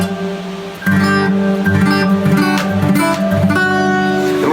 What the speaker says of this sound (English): what you're hearing is me using the plate reverb